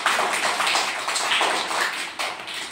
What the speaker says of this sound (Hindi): सबसे पहले आप लोग जोरदार तालियां बजाइए